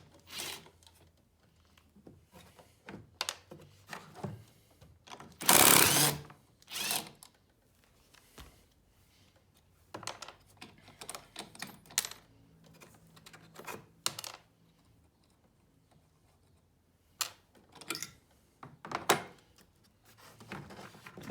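Small 10mm nuts being worked off a gauge bracket on a Polaris Indy snowmobile, with scattered brief clicks and ratcheting taps spread irregularly through the clip and one louder close clatter near the middle, no talking.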